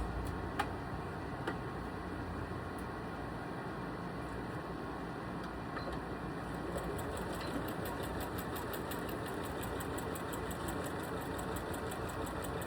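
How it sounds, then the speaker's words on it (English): A Janome Skyline S3 Anniversary Edition sewing machine stitching fabric, a continuous steady hum with fast regular ticking of the needle, close and even, with no voices. "If anyone's wondering what kind of machine I'm using, this is a Janome Skyline"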